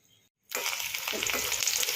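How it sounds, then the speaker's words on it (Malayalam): Garlic frying in hot oil for a Kerala mixture snack, a loud sizzle that bursts on suddenly after a brief silence and then crackles steadily, close up. "ഞാൻ കുറച്ച് വെളുത്തുള്ളി ഒന്ന് നന്നായിട്ട് വറുത്തെടുത്തിട്ടുണ്ട്"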